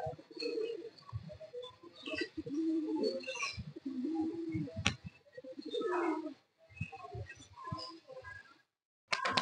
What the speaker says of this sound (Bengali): অনেক পায়রা কিন্তু এখানে আছে।